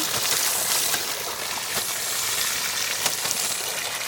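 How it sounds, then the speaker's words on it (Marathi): Leafy red amaranth greens being washed in water, a steady close splashing and trickling wash with a few brief sharper splashes, no talk. "थोडे भाजी धुवून घेता."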